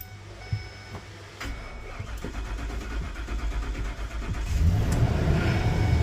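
A car engine hooked up with cables turns over and catches, a mechanical whirring rising into a steadier running rumble that grows louder toward the end, close by with no voices.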